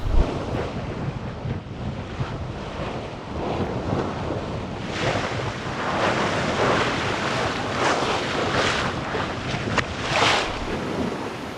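Steady roar of wind buffeting the microphone over rushing water and surf aboard a Beneteau 423 sailboat, swelling in gusts up to 27 knots for several seconds, with no voices.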